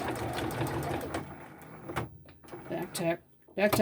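A home sewing machine runs steady stitches through a fabric face mask, its mechanical whir close and continuous before stopping near the end, with a voice speaking over it.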